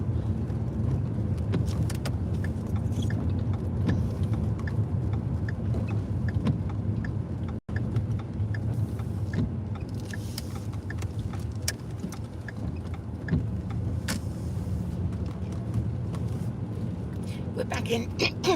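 Car driving along in Hemsby, a steady low road and engine rumble inside the cabin with occasional light rattles, continuing under a person talking throughout.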